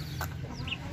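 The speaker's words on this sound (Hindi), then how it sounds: "सफ़ेद मुर्गा है" A white rooster in a farmyard gives short, soft clucks close by over a steady low background hum, with other fowl, quail and ducks about.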